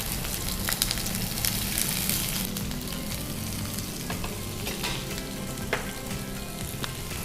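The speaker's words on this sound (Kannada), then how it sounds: "ಸಾಸಿವೆ ಕುಣಿತ ಅಂತ ನೋಡಿ" Mustard seeds spluttering and popping in hot oil, a continuous crackling sizzle with scattered sharp pops, moderately loud and close, with no talking.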